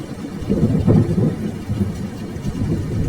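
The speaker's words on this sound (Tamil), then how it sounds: "காட்டுல எங்க பார்த்தாலும் மழை தண்ணி தேங்க ஆரம்பிச்சது." Heavy rain pours steadily in a forest with deep rumbles of thunder rolling through, a dense close wash of noise with no talk.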